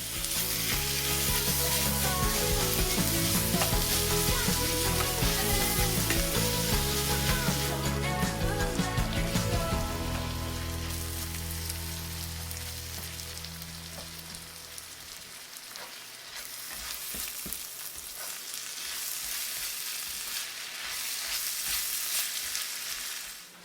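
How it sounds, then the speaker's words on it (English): Pork sausage and vegetables fry in a pan with a loud, dense sizzle, stirred now and then; the hiss carries steadily and dips briefly midway before rising again, with no voices. "I'm going to pop the pork sausage right into the pan. And we're going to cook that up with the veg."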